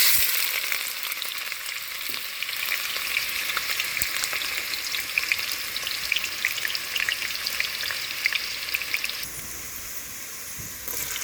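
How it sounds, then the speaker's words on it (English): Onion and tomatoes sauté in hot oil on a stove, giving a steady, close, bright sizzle that runs unbroken for about eleven seconds and eases slightly near the end, with no voices. "When it's hot and ready, you put in your onion and saute along with your tomatoes."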